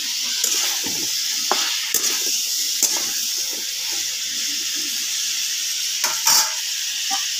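Greens and potato fry in a pan with mustard masala, a continuous sizzle broken by repeated scraping stirs and occasional sharper crackles, close and fairly loud.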